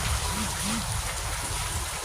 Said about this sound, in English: I woke up, it's raining, it's loud.